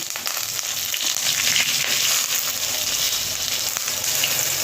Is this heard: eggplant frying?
yes